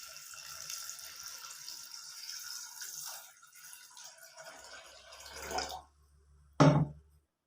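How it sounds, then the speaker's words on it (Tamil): Water poured into a pressure cooker holding chickpeas, a close, steady running and splashing that tapers off, followed by a brief clank of the pot. "கொண்டைக்கடலை வேக வைக்கிறதுக்கு தேவையான அளவு தண்ணி ஊற்றிக்கலாம்."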